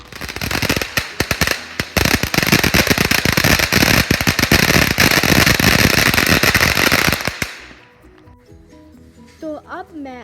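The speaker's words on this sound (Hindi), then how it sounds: "पटाखा" A long, dense string of Diwali firecrackers bursts in rapid, loud crackling pops for about seven seconds, then cuts off, leaving quiet background and a brief voice near the end.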